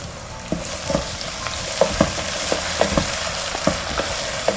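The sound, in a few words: cashews fried in ghee being stirred into rice, sizzling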